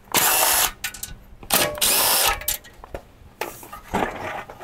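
A power tool zips in short, loud bursts while it backs out small 10-millimeter bumper bolts on a 2023 Jeep Grand Cherokee 4xe Trailhawk. Brief pauses fall between the bursts, with clinks in the gaps.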